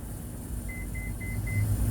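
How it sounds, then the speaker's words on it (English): Four short, evenly spaced electronic beeps from a Toyota Highlander power liftgate as its button is pressed and held, clear but modest in volume over a low background rumble. "you just heard that beep"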